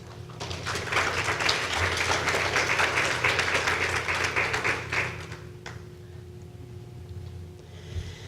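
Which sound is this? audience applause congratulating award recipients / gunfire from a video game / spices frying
audience applause congratulating award recipients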